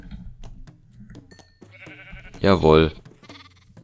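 A sheep in the Minecraft video game lets out a loud, wavering bleat near the end, after quieter game ambience and a short spoken word.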